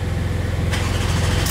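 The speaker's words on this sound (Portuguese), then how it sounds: "Só que agora, nós vai ligar o carro do Renato." A Porsche 911 with a straight-pipe exhaust starts up, a brief, loud, close engine rumble that settles into a deep pulsing idle, with no talk.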